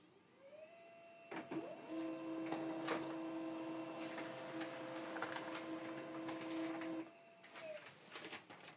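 An HP LaserJet 107w laser printer runs a test page: a steady mechanical whir with a sustained high tone, soft clicks and feed noises, rising as it starts and winding down after about six seconds, close and moderate.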